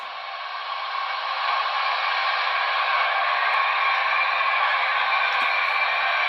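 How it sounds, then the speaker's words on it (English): Water injectors on a Broadway Limited PRR Q2 Duplex 4-4-6-4 brass model locomotive give a constant, close, dense hissing rush that holds steady from start to finish with no pauses. "11 water injectors."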